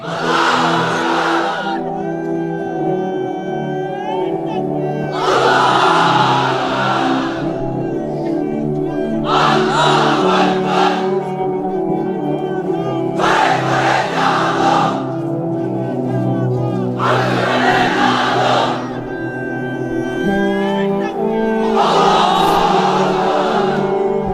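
A crowd of unmarried men at an Islamic sermon gathering shouts a takbir chant in about six loud, full-throated bursts, evenly spaced every few seconds, over a steady low hum.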